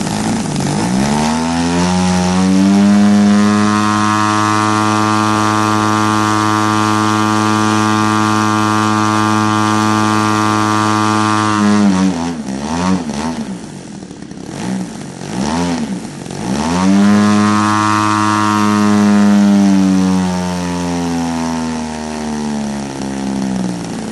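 A small engine runs steadily at a high, buzzing pitch while its carburetor low-end is tuned by ear. Partway through, the throttle drops and wavers before the engine climbs back to a steady whine, loud and close throughout.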